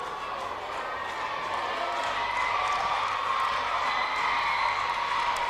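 A large crowd cheers and whoops continuously at a national athletics track and field championship race in Uganda, a dense, sustained roar close by with rising excitement.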